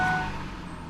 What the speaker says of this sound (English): Let's go and start this thing up.